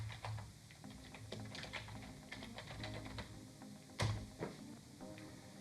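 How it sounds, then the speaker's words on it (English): A command being typed on a computer keyboard in a Raspberry Pi terminal, a run of quiet, close key clicks in an irregular rhythm ending with a firmer keystroke, with no talking. "We type sudo"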